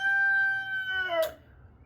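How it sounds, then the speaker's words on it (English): A single rooster crows once, a drawn-out harmonic call that slides down in pitch at the end, heard fairly close over a quiet background hum. "I have a rooster. He's annoying."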